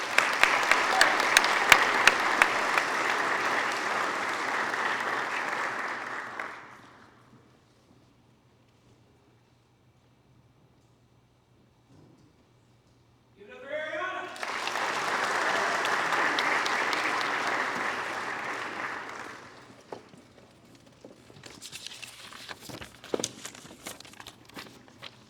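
A high school athletic signing ceremony audience applauds loudly for several seconds, falls silent, and then breaks into a second long burst of clapping. Scattered claps and crowd rustle follow.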